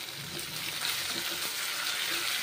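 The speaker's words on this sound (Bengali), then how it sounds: "মাশরুম, মুগের ডাল, মুসুর ডাল ভেজে নিচ্ছি" Mushrooms with mung and masoor dal frying in hot mustard oil, giving a steady, close sizzle with soft crackles and occasional stirring sounds, and no talking.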